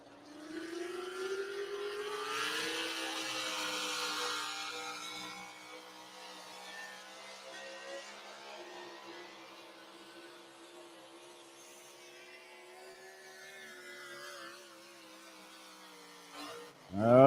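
A Dodge pro stock truck at an outdoor tractor pull roars through its run, loud at first and then fading into a steady distant drone before a sudden burst close by at the very end.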